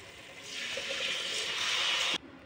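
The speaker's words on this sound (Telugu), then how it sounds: "ఇప్పుడు మనం చింతపండు రసాన్ని యాడ్ చేసుకోవాలి" Tamarind juice poured into a Bhimavaram-style fish curry (pulusu): a continuous, fairly soft splashing pour that swells over about two seconds and then stops abruptly.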